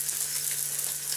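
Spam or bacon frying in a pan, a steady close crackling sizzle with fine popping throughout, no voices.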